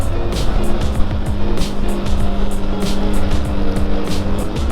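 Yamaha R15 v2 motorcycle engine revving hard under way, a loud, continuous high-pitched whine with steady harmonic tones and rushing wind, no talking.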